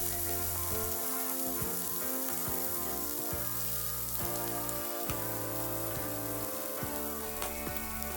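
Prawns frying in a pan as okonomiyaki ingredients, a constant close crackling sizzle with fine popping spatters throughout, steady and unbroken.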